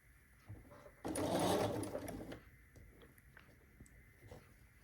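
A sewing machine stitching over a pressed-open seam, a loud close whirring burst lasting about a second and a half, then quieter intermittent clicks and mechanical taps.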